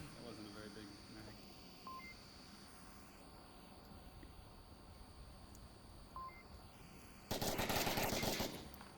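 Gunfire in the VR shooter Onward: rapid bursts of shots sound toward the end, loud and dense, after a stretch of quieter game ambience with radio beeps and a player talking.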